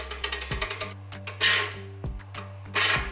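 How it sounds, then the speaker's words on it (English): A LEGO ratchet winch powered by rubber bands is wound up: a quick run of plastic ratchet clicks, then rubbing, grinding turns with a few sharp clacks, close and loud. "we can wind up this ratchet, storing a significant amount of potential energy"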